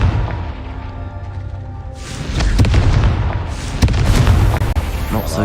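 A Confringo blasting spell going off in the game Hogwarts Legacy, with a deep booming explosion that swells and rumbles for several seconds amid loud game effects.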